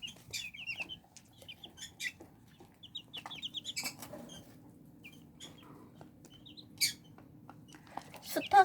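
Small pheasant-cross chicks from a brooder making soft, scattered clucking and chirping calls over a steady low hum, faint and intermittent with a few louder peeps.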